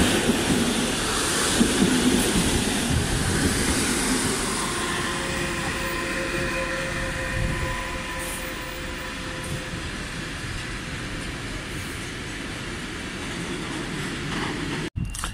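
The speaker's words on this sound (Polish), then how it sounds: "Wjeżdża pociąg Regio relacji Malbork Gdynia Chlonia." A Regio EN57 electric passenger train rolls in steadily, wheels rumbling and clacking on the rails with faint squealing tones, ending in a sharp clunk.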